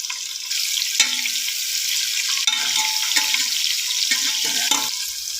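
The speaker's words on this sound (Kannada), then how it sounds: "ಚೆನ್ನಾಗಿ ಫ್ರೈ ಮಾಡ್ಕೊಳ್ಳಿ." Onion, curry leaves, green chilies and ginger garlic paste frying in oil for a mixed vegetable sambar, a steady close sizzle with intermittent stirring and scraping clatter throughout, no voices.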